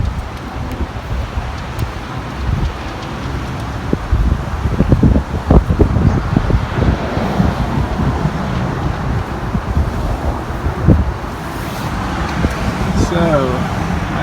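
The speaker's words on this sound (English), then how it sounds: "It's also really windy today." Strong outdoor wind gusting and buffeting the microphone at a porch building site, with rustling and irregular low rumbles rising and falling while a person talks over it.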